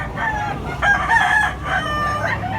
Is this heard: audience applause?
no